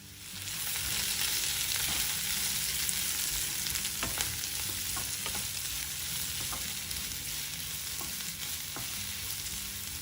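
Sliced onion frying in hot oil, a loud, steady, close sizzle throughout with occasional light scrapes and clicks of stirring, no speech.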